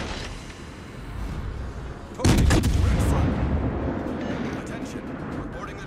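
Cleveland cruiser guns fire in World of Warships, a heavy booming salvo that bursts out loudly and rumbles away, with lighter crackling shots around it.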